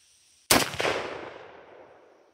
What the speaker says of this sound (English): But let's take a shot or two and see where we're at and what we're actually getting.